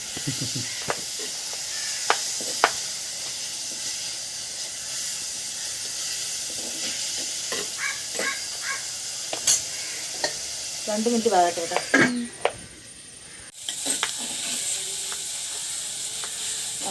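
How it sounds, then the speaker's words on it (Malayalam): Tomatoes with curry leaves sautéing in a pan for a yogurt-based curry, a steady close sizzle and hiss broken by scraping stirs, with a voice speaking briefly now and then. "തക്കാളിയൊക്കെ വഴണ്ട് വന്നിട്ടാണ്"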